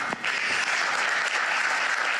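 A large hall audience bursts into loud, dense applause that holds steady throughout, a sustained wash of clapping with no voices rising above it.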